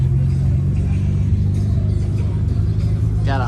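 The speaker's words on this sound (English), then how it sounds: "Got an RX-7. I think that's a Spirit R right here." A Mazda RX-7 Spirit R rolling past at a car meet: a steady, loud, low engine rumble close by throughout, with a brief rising whine near the end.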